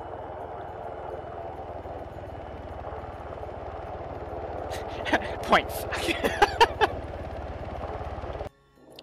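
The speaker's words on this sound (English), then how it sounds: "Helicopter going in." A helicopter flies in the Air Assault video game, its steady low rotor and engine drone running continuously while someone talks over it and several short sharp effects break in near the end.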